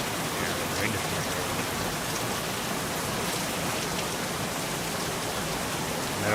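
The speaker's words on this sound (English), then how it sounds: "I don't know how effective the rain is at covering scent. Noise for sure." Steady rain falls in the Virtual Hunter hunting game, a dense, even hiss of drops on the ground that carries on unchanged throughout with no voices.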